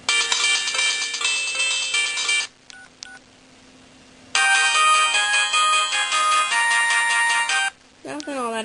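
Loud electronic ringtone tunes alternate with brief pauses and short chirps, ending with a rising warbling tone; no one speaks.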